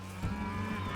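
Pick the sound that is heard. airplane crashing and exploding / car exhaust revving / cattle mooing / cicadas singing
cattle mooing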